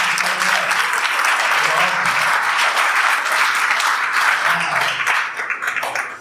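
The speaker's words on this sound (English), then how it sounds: "Let's clap it up." An audience applauds at a startup pitch night in New York City. The applause is loud, dense and sustained, then begins to fade near the end.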